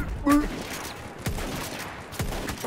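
Gewehr M.95 rifle fire in the online shooter Battlefield 1: a few sharp, separate shots spaced about a second apart over a busy battle background, with a shouted voice breaking in near the start.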